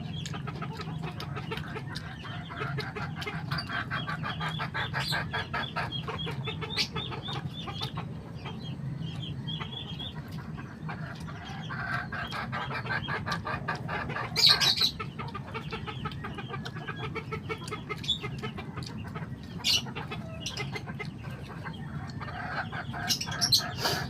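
Chickens cluck and chatter steadily nearby, with scattered sharper calls and an occasional flutter of wings, no voices.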